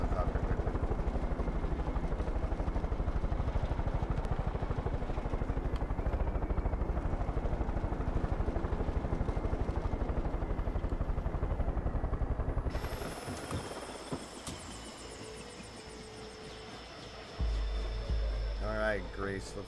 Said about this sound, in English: Land my helicopter quickly.